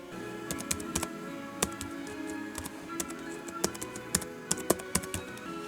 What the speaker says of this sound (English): let's try typing now on this minuscule sorry excuse for a keyboard